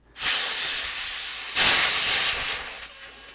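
Air hisses out of a 0.5 L mini scuba tank's hand pump as the valve is undone: a sharp, loud hiss begins abruptly, then a second stronger burst follows before it tapers off.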